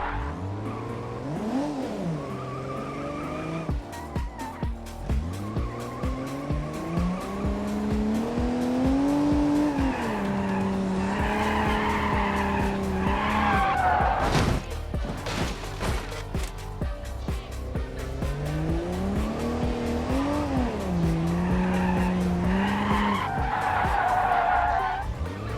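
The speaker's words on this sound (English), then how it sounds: "And now the drift test." A car drifts on standard, slippery tires, its tires squealing and skidding loudly in long sliding sweeps while the engine revs and wails beneath, with brief pauses between slides.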